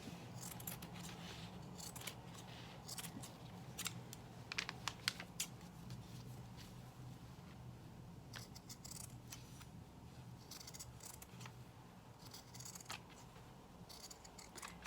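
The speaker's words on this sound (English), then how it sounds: "I'm just taking my scissors again and cutting along the" Scissors snip along the outside edge of a paper template laid on jumper or sweatshirt fabric, a series of quiet, close cuts with brief pauses and a soft low background hum.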